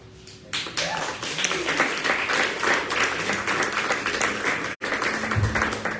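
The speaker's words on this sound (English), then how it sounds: "we should all take a moment to give a round of applause to all our poets" A live audience at a poetry reading gives the poets a sustained round of applause, dense and steady for several seconds, with a brief break near the end before the clapping resumes.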